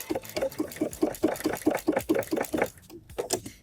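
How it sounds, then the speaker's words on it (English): A sewing machine running a narrow edge stitch along a curved rolled hem, sounding as short rhythmic bursts of rapid clattering that stop and start again as the fabric is pushed along, close and clear. "now I'm going to stitch right on the edge, the left edge, with a little edge stitch of the hem"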